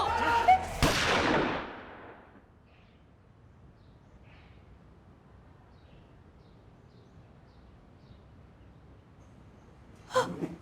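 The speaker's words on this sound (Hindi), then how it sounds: "गोली चलाओ।" A single loud gunshot cracks out close by at the start, followed by a long quiet stretch and a second sharp burst near the end, in a tense confrontation scene.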